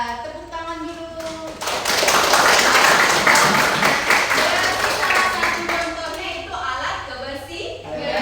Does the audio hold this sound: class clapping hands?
yes